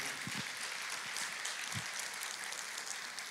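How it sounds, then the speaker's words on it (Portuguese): A church congregation claps during a Portuguese-language worship service, a steady wash of applause carrying through with a few low thumps mixed in. "Pode aplaudir ao Senhor."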